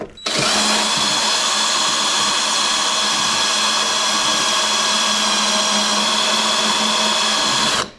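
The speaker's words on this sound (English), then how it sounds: "Alright, we'll drill these out." A power drill whines steadily and loudly for several seconds, drilling out rivets at a constant high pitch before winding down.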